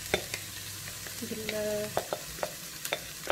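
Minced meat stirred in a hot pan for lasagne bolognese, with a steady sizzle and several sharp scraping clicks of a utensil against the pan, close and fairly quiet, no talk.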